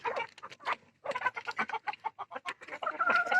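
Several chickens cluck in a steady, busy chatter on a rooftop, with a few louder calls and a rooster-like tone near the end, all close and without speech.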